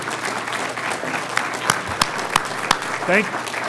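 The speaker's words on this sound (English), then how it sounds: "just a round of applause for John Batley." Round of applause at a school association meeting luncheon, a steady broadband patter of clapping with a few louder individual claps and a brief voice near the end.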